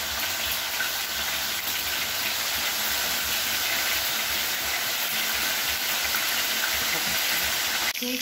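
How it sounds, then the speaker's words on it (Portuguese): Shrimp frying in hot oil with grated onion in a home kitchen, a steady bright sizzling hiss that runs loud and continuous throughout, close, ending with a brief clatter. "estamos aqui fritando ainda, né? O camarão."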